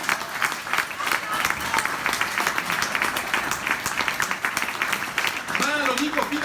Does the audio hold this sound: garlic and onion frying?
no